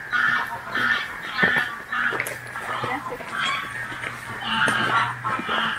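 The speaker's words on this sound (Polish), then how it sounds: "normalnie słychać z każdej strony jakieś ptaki, kaczki," Geese honk repeatedly in a noisy, overlapping chorus, loud and fairly close, with a few other bird calls mixed in.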